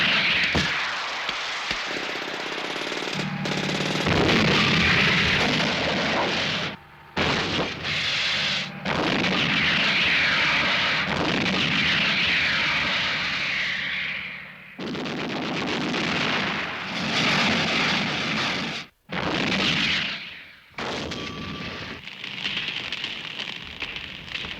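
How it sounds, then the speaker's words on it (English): A Cobra tank-killing attack helicopter flies at treetop level during the 1978 NATO exercise Autumn Forge in Germany, a loud, continuous rushing roar that swells and dips briefly, with no talking. "The Cobra tank-killing helicopter, flying at treetop level"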